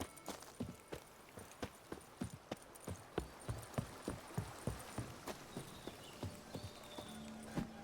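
Horse hooves clip-clopping at a steady walking pace in The Witcher 3, a long run of evenly spaced, crisp hoofbeats at moderate distance over a faint ambient background.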